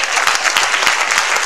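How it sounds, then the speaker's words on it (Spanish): A church congregation applauds, a brief burst of close, loud clapping from many hands with sharp individual claps audible in the mix and no voices. "Denle un aplauso a Dios."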